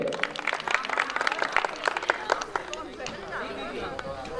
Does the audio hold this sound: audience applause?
yes